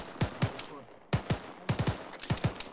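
Mortar rounds firing in the Arma 3 military game: a string of sharp, loud reports in irregular clusters of two and three, with faint voice chatter between them.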